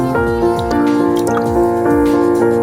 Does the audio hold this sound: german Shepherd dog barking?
no